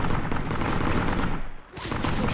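Machine gun fire in the World War II shooter Heroes and Generals, a dense, loud rattle of rapid shots with a brief gap before it resumes.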